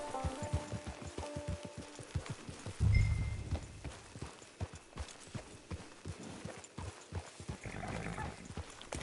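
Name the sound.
horse hooves, video game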